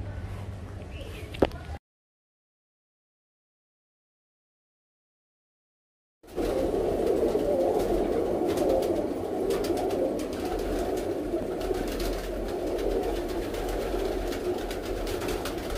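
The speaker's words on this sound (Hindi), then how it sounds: "ये सब के सब जोड़ों वाले कबूतर हैं" Pigeons cooing in a big pigeon loft housing breeding pairs, a soft continuous murmur of coos after a brief burst of sound and a few seconds of silence.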